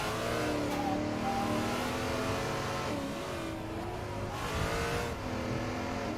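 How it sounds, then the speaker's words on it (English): A Trans Am's engine in Assetto Corsa, loud and close, revs up and down through gear changes. Rising and falling tones repeat over a constant droning roar, with no talk. "this is a rather quiet engine sound in this thing"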